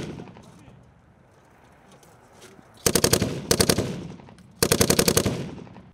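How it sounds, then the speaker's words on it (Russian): Machine guns fire on a military firing range during training, in three loud, close bursts of rapid shots separated by short gaps, over a low background hum. "Стрельба ведется из двух видов оружия – легкого и тяжелого."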